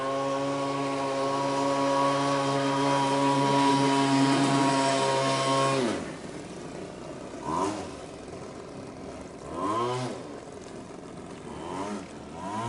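A V-hull jet boat engine on a river drones loudly and steadily, then drops off to a quieter rumble with a few brief surges of revving.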